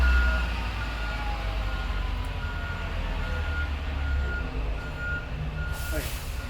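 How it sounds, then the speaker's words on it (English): A bus parking sounds its reversing alarm, a steady run of evenly spaced beeps riding over a loud, deep engine rumble close by. "Just go wait for this bus to park."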